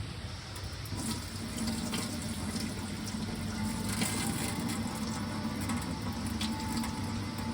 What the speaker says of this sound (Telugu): రైస్ని ఒక 3 to 4 టైమ్స్ వాష్ చేసుకొని ఒక 1 అవర్ నానబెట్టుకోవాలి మనం.